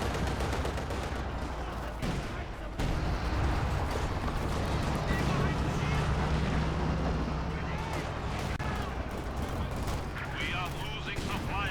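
Counterfire on a Raketen in Company of Heroes 2: continuous heavy battlefield gunfire and booming artillery-like blasts, dense and loud throughout, with a voice talking underneath.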